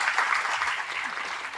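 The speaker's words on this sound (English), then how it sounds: "Can we get another round of applause," Audience applauding for Mayor Welch at a St. Pete, Florida legacy award event, a steady, dense wash of many hands clapping at close range that fades slightly toward the end, with no voices over it.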